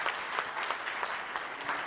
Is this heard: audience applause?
yes